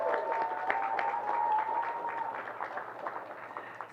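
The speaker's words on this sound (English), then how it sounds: "Give them a big round of applause." An audience at a Halloween safety press conference applauds the teachers and staff of Marie Reed school, with dense, steady clapping that stays loud throughout and thins slightly toward the end.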